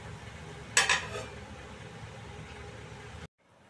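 A cauliflower roast simmers covered in a pan, a soft steady bubbling hiss with a brief sharp metallic clatter of a lid or utensil early on, before the sound cuts to near silence.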